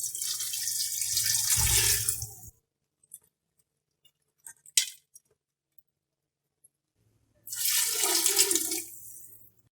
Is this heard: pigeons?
no